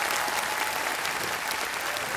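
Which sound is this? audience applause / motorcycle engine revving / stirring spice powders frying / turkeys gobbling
audience applause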